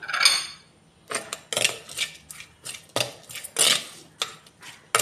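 Spoon scraping and clinking against a clay pot while mixing masala, in repeated bursts of irregular stirring strokes close by, with no talking.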